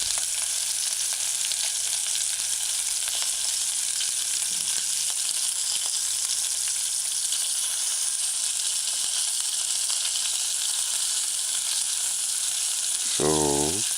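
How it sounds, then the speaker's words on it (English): Fish balls frying in oil over a high stove flame, a steady dense sizzle running close and unbroken throughout, with a short brief tone near the end. "rotate your fish balls to the side that's not frying."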